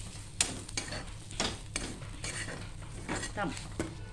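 Spices stirred into a pan of stuffed brinjal, repeated scraping clinks of a spoon against the pan over a soft steady sizzle, close and rhythmic.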